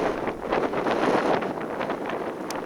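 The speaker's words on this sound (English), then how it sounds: "Bit blustery today," Blustery wind buffets a microphone outdoors on a boatyard or shoreline beside a Jaguar 27 sailboat, a steady loud rushing roar with gusty swells and no speech.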